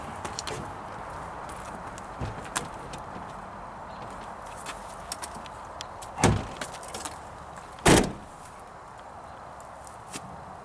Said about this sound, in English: And once in, the door closes and latches, and the lines aren't too bad.